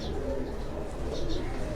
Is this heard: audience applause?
no